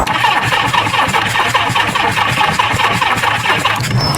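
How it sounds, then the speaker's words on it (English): Starter motor of a Kawasaki Z650B motorcycle cranking continuously without the engine catching, a loud, steady whirring churn close by for several seconds. "at least the starter motor works okay"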